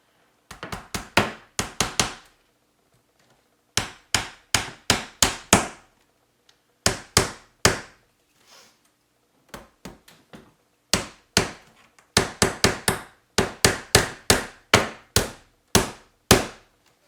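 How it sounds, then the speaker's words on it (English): Bursts of quick hammer blows nailing wooden trim, several rapid taps in each run, with short pauses between groups; close and fairly loud, no talking. "So I put nails in all of the trim to hold it in place."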